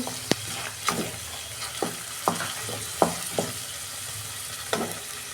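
Medium-sized onions frying in a pan give a steady close sizzle, punctuated by repeated sharp scrapes and taps from stirring at irregular intervals, with no voices.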